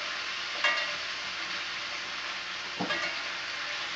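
Thick-sliced peppered bacon sizzles in a pan, an even bright crackle close up, broken by two brief utensil knocks as the strips are turned.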